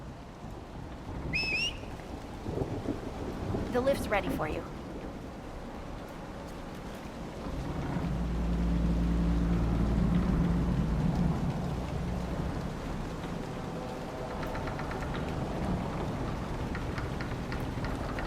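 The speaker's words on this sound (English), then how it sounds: "I could use the sun if this storm ever clears." Steady rain and rolling thunder from a storm in the video game Dragon Age: Inquisition, with a low rumble swelling midway under a brief spoken line and faint game sounds.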